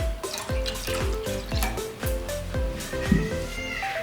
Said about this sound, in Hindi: साथ ही हम इसमें 1 कप पानी डालेंगे